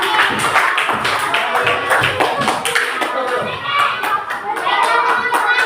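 Classroom students clap their hands in a busy, uneven patter of close claps lasting several seconds, mixed with scattered young voices talking underneath.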